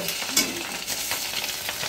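Egg fritters in batter frying and being stirred in a pan at home, a steady close sizzle with light scraping and no talking.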